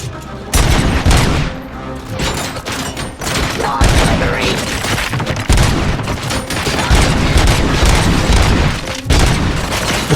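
Enemies open fire in RoboCop: Rogue City, a dense barrage of loud booming gunshots and blasts that keeps going for the full stretch with hardly a break.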